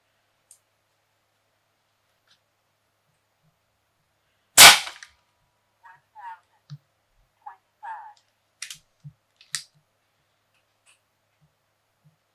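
A single sharp, loud shot from an AEA Challenger Pro .30 air rifle firing an H&N 50 grain slug, followed by several quieter clicks and knocks of handling, with brief talk.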